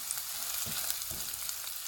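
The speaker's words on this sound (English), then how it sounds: "Then I will stir it in and let it be on fire for about 3 minutes." Herring powder being stirred in a pot over the fire for Ghanaian eto of mashed plantains, a soft, even sizzle with a couple of brief spoon scrapes, quiet and without voices.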